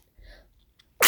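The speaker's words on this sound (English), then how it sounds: "It's a big sneeze." A single loud, sharp human sneeze bursts out near the end, preceded by a faint sharp intake of breath in an otherwise quiet room.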